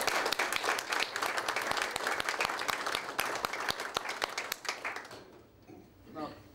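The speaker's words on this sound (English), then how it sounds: "Big round of applause to Georgia." An audience gives a round of applause to England cricketer Georgia Elvis, with brisk, dense clapping from a crowd that tapers off into near silence at the end.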